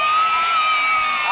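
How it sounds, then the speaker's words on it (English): Crowd at a 2019 daredevil stunt show in Herne Bay cheering loudly, with whoops and children's shouts blending into one sustained roar. "The louder you cheer, the louder you clap"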